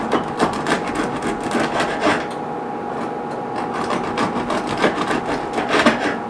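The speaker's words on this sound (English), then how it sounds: "So here we go. Just a few more slices." Knife slicing a crusty baguette thinly on a bias, repeated close scraping crunches in an uneven rhythm, loud and without talking.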